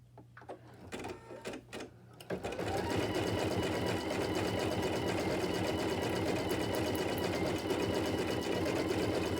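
A sewing machine stitches a table topper, starting after a couple of seconds of quiet handling noises and then running continuously with a steady, fast, close mechanical whir.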